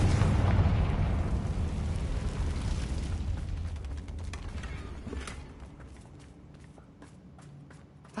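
A blast from the Confringo explosion spell in a Harry Potter video game, a loud close boom that rumbles and slowly dies away, followed by faint scattered clicks and shuffling.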